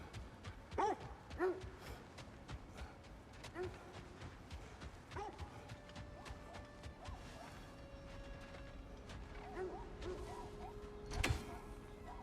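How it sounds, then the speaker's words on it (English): Dogs or wolves barking and yipping in the video game God of War Ragnarök, several sharp barks scattered through combat clashes and thuds, with a loud crash near the end. "Dogs. Or wolves."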